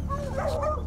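Hunting dogs bay at a bobcat treed near a road in the brush, a close, loud burst of excited barking and yipping with no talk over it.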